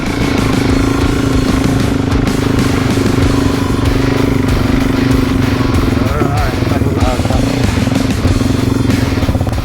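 A DRZ400 motorcycle rides along wheel tracks on beach sand, its engine droning loud and steady throughout with clattering and scraping, no pauses.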